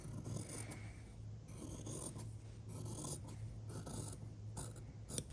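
Scissors cutting fabric along a cut line outside the seam allowance, a quiet continuous rasping snip that pauses briefly between strokes, close and faint with no talking.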